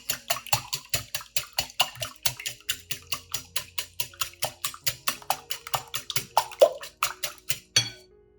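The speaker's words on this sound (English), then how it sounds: "Using a whisk, I beat the egg whites until they become lightly foamy." A whisk beats egg whites in a bowl, producing a fast, steady series of clinking strokes, roughly three per second, close and clear, ending with a final scrape.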